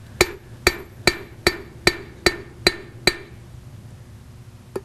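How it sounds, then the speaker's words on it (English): Hammer striking down on the corner of a square metal taper, eight evenly spaced sharp metallic clinks with ringing decay, close and alone, then quiet. "turn it on an axis like that and strike down on the corner"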